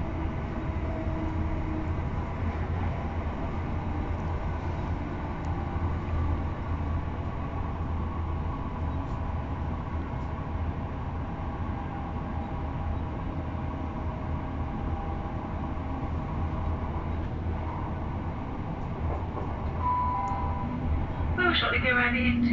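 East Midlands Railway class 170 diesel unit 170512 slowly arriving at Market Rasen, a steady low interior rumble and hum heard from onboard, with a brief squeal near the end.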